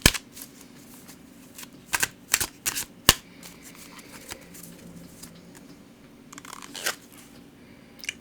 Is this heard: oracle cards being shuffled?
yes